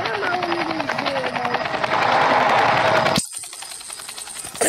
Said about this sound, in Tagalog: Ang helicopter.